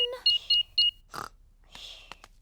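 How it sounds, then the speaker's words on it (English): A cartoon house alarm being switched back on at night gives a few short, bright electronic beeps in quick succession, followed by brief clicks and rustles. "Switch the alarm back on."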